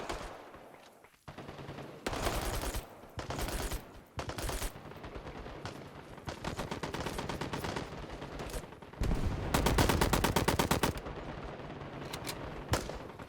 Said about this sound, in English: There's an Army Ranger firing from the corner of a building.